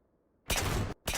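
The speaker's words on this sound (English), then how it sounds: "Oh, they're firing over there." Sharp broadband bursts of gunfire in a tactical training exercise, two loud blasts close by, the first sustained for about half a second and the second following after a short gap.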